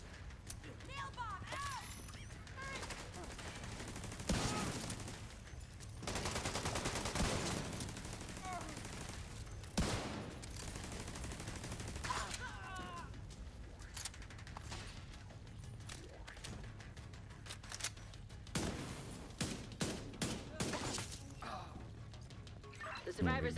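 Gunfire rattles through a realism-mode shooter video game in repeated loud bursts and volleys, with voices talking over and between the shots.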